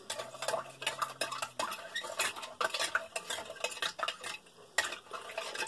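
A Canadian IMP ration spoon clinks and scrapes against a meal pouch or container, producing close, irregular metallic taps and rustles in quick succession with no speech.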